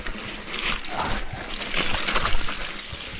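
A mountain bike crosses a river on the Les Gets black cross-country route, with continuous splashing and sloshing water against tyres, fairly loud and close, with no voices.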